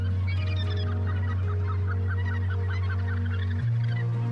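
Gannets calling across a colony on barren White Island under the midday sun, a steady dense chorus of harsh, honking cries heard from close range over a constant low rumble of wind or surf.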